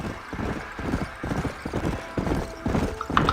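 Horse hooves clip-clop at a steady riding gait in the Red Dead Redemption video game, loud and close with a continuous rhythmic beat and a faint whinny near the end.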